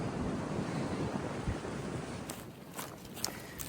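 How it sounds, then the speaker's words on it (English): Gusty wind rushes and roars against the microphone high on a mountain along the Appalachian Trail, easing slightly partway through, with a few soft bumps and rustles near the end. "It's crazy windy."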